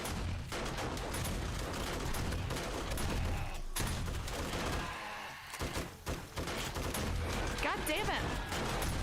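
Rapid gunfire in the 7 Days to Die co-op zombie survival video game, dense continuous bursts of shots filling the whole stretch with a brief lull midway, while someone talks over it.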